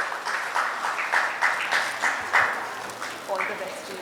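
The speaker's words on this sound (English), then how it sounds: "Big round of applause." Audience applause at a textile trade conference panel in Mumbai, a burst of rhythmic clapping from a seated crowd that rises in pulses and gradually fades.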